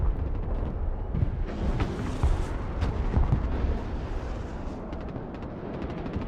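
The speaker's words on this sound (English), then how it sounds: "Rocket artillery standing by. Just fire, just fire." Rocket artillery volleys and explosions in a real-time strategy war game, heard as a dense, continuous roar of overlapping booms and rumbling blasts that stays loud throughout.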